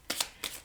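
Tarot cards shuffled by hand, two short papery riffling bursts close to the microphone, fairly quiet, with no talk.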